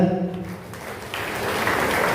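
A congregation at a New Year Mass claps as people are called forward, scattered applause building in the room after a voice fades out.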